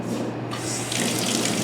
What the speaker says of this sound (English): I can take this downstairs and go right into cold water in the sink.